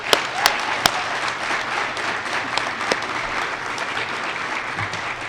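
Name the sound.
audience applause for new head football coach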